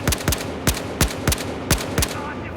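A gun in the video game Battlefield Hardline firing single shots, about seven sharp loud reports spaced unevenly over a few seconds, each with a short decaying tail.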